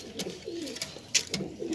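Nawabi pigeons coo softly in a loft in Tonk, Rajasthan, giving several low, repeated coos close by with a faint chirp in between.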